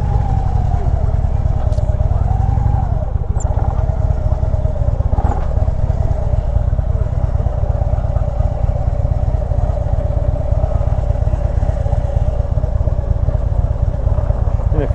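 A motorcycle engine runs steadily up close at a mountain campsite, a loud, continuous mid-pitched chug with small rises in pitch, while someone talks over it throughout.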